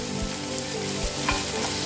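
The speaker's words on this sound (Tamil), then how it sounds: "இப்போ நம்ம வெங்காயம் கொஞ்சம் நல்லா வதங்கட்டும்" Onions sizzle steadily in a hot pan, with a few scraping knocks as they are stirred.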